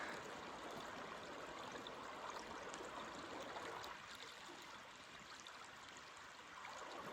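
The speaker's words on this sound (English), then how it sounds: "Streams in the desert." A desert stream flowing through a river valley in the wilderness, a steady, close rushing and trickling of water that holds constant throughout with a slight dip in level midway.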